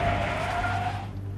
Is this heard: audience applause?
no